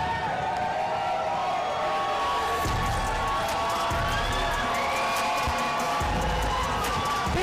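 A big crowd cheers and roars throughout a super lightweight boxing debut by Jesus Ablan from Venezuela, a dense continuous wash of voices with whoops rising and swelling over the arena.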